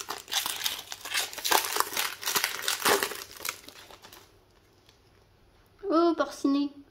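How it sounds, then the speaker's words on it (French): Wrapper of a Lorcana trading card pack crinkling and crackling up close for about four seconds as it is pulled open, then a short pause and a voice speaking briefly. "J'ai du mal à ouvrir ce paquet."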